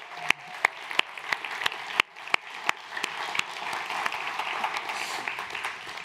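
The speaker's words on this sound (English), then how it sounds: "a massive round of applause" An audience applauds the Solver teams and fellows at an MIT Solve event, starting with a few sharp individual claps that swell into steady, fairly distant clapping through the room.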